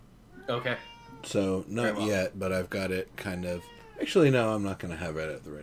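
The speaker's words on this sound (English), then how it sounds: "Sorry about the cat sounds." A house cat meows repeatedly in the background, its cries woven beneath continuous close conversation, with a louder, drawn-out wail near the end.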